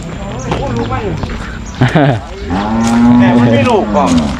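Cows and calves moo loudly at an outdoor cattle market, several long low calls in close succession, while traders' voices and bargaining chatter run underneath.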